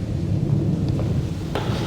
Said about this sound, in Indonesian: Tadi ada petir.